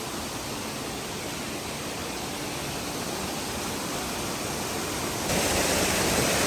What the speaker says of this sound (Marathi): हा छोटा धबधबा आहे